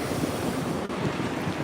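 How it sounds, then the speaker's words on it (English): Ocean waves wash into a coastal inlet at Bethany Beach during Hurricane Erin, a steady broadband roar of surf mixed with gusting wind buffeting the microphone, continuous and loud with no voices. "And oh, here's a wave coming in."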